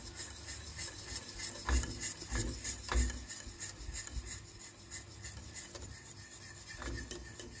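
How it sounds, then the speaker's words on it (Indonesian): Egg yolk mixture with agar is stirred in a pan over low heat, giving a steady close scraping and rubbing with a few firmer knocks of the utensil against the pan, with no talking. "ini sudah ada kuning telurnya sambil kita aduk sebentar"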